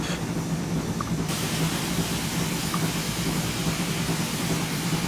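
An LNWR G2 steam locomotive in a train simulator game pulls away up a 1 in 100 gradient with the throttle opening, giving a loud, steady roar of chuffing and hiss with rolling noise underneath.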